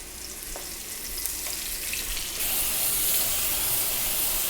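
Flour-dusted onion rings deep fry in hot oil, a steady crackling sizzle with small pops that surges into a louder, brighter hiss partway through.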